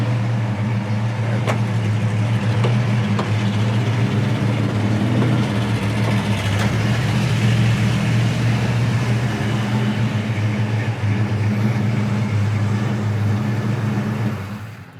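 A 1974 Pontiac Firebird Formula with its numbers-matching 400 four-barrel V8 idles steadily, a deep, even low rumble held at constant loudness for about fifteen seconds with no talk over it.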